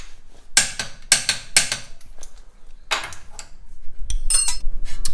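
Torque wrench tightening track bar bolts on a Jeep JL, a series of sharp metallic ratchet clicks and clacks in short bursts, close and fairly loud, ending in a low rumble.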